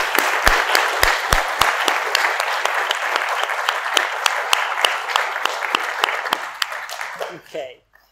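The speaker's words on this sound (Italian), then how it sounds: "Facciamo un applauso a questa cosa" Audience at a conference event breaks into steady applause, with dense clapping and a few sharp, louder individual claps, holding for several seconds before it fades out at the end.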